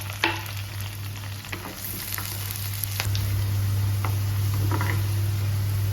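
Mustard seeds, ginger, garlic and curry leaves sizzle in hot oil for a Kerala-style tuna curry, a steady close frying hiss with scattered small pops and crackles and a low kitchen hum underneath.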